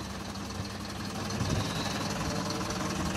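A Mercedes Benz Vario 0.816d coach with Unvi Riada GT bodywork sits idling, its diesel engine giving a steady, even rumble with a slight vibration, close by and continuous with no talk.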